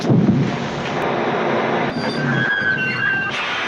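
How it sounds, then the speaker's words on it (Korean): A truck blowing up in a French noir film: a loud, sustained roaring blast that fills the whole clip, with debris rumble and a few faint whistling tones near the end. "빈바와 루이지의 트럭이 대폭발을 합니다."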